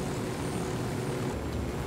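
Stolen helicopter in Ghost Recon Wildlands, a steady faint engine and rotor drone that holds evenly throughout with no talk.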